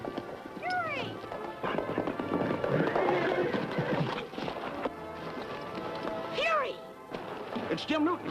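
Horses whinny in sharp, rising neighs at the start and again near the end, over a busy churn of hooves, scuffling and shouting in a Western outdoor chase.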